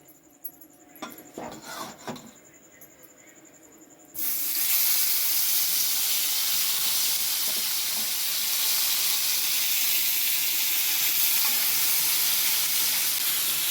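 Snakehead fish frying in freshly poured oil, a few soft clatters and taps at first, then a sudden loud, steady hiss and crackle of sizzling that continues close up without pause.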